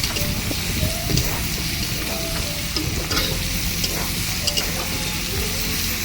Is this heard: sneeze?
no